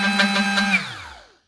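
Detail sander buzzing steadily as it dabs at painted furniture to distress the finish, a close, continuous motor whine that winds down and fades to silence near the end.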